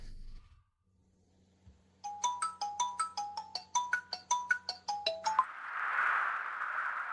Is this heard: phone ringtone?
yes